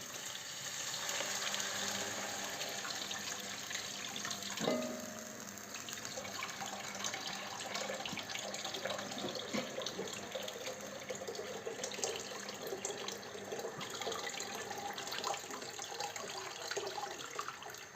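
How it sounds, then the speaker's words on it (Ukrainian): About two litres of water pour steadily into a four-litre soup pot for a long stretch, a continuous rushing splash at close range, with a brief clunk partway through. "І тепер вливаємо сюди 2 е, літри води."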